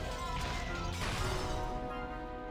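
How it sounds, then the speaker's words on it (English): Dense smashing and thudding din of destruction in the Umineko visual novel, as goats tear through the mansion; a steady, loud, continuous wall of crashing with a sharper impact burst near the middle and lingering tonal hum underneath. "The mansion was filled with sounds of knocking, crushing, smashing, and chewing."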